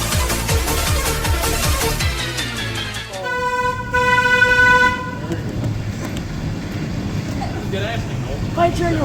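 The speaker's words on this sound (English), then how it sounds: "Play train horn." A loud, sustained train horn blasts for about two seconds after a stretch of music and rumbling, then fades into a noisy background.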